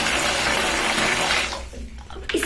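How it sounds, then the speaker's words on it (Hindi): Tap water runs steadily into a bucket in a bathroom, a loud broadband rush that cuts off partway through, followed by a brief clatter. "ये भर गई है मेरी बकेट"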